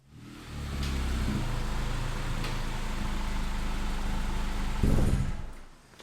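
A ninth-generation Honda Civic with a 3-inch downpipe and aftermarket exhaust idles with a deep, throaty rumble, holding steady before a brief blip of revs near the end, then fading.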